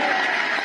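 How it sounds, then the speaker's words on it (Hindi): Audience applause for Mangroop at a farmers' gathering at Kisan Bhawan, a steady, dense wash of clapping from a crowd, fairly close and unbroken through the brief moment. "तो एक बार मंगरूप के लिए ताली बजा दी"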